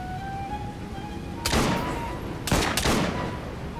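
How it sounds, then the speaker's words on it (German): Gunshots in Assassin's Creed Syndicate, two sharp bursts of fire about a second apart over a steady background of ambient game noise and a faint tonal hum. "Ich würde sagen, das ist ein Kopfschuss"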